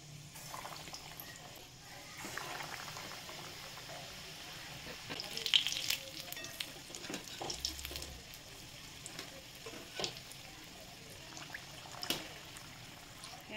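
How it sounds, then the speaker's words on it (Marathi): Batata vadas deep frying in hot oil, a soft continuous bubbling sizzle with occasional splashes and clinks of a utensil, fairly quiet and steady throughout. "मग आपण आता याच्यामध्ये वडे तळून घेऊया"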